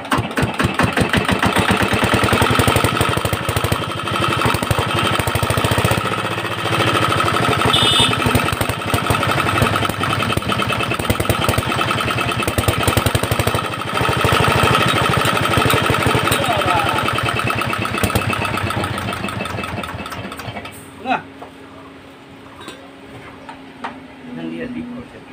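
An R175 diesel engine running close by, a loud rapid chugging rhythm with metallic clatter that holds steady, then drops away sharply near the end, leaving a quieter hum.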